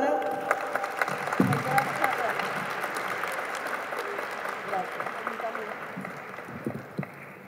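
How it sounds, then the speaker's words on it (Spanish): At an academic event on educational research, an audience gives sustained, moderately loud applause for officials, with murmured voices and a few sharper claps and knocks mixed in. "Un aplauso para..."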